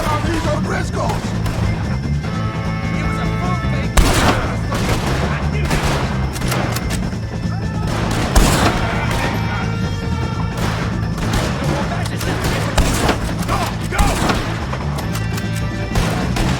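Gunfire during a shootout with O'Driscolls in Red Dead Redemption 2, a dense stream of shots and impacts over a loud, constant game mix with occasional sharper bangs.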